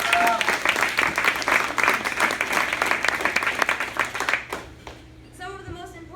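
Applause from an assembled crowd honoring Mission Control at a mock Mars launch event, steady dense clapping for about four seconds that then thins out and stops, with faint voices and background murmur afterward.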